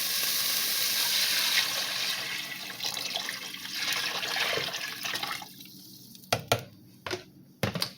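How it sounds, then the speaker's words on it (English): Water pours steadily into a cooking pot for several seconds with a splashing rush, about two quarts, then tapers into a few short splashes and drips. "Now I'm gonna add my water."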